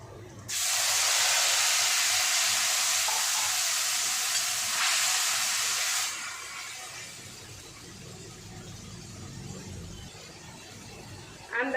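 A ground paste of ginger, cumin, chili and coriander hits hot oil in a pan with a sudden loud sizzling hiss that holds steady, then drops to a quieter simmer after a few seconds, close by.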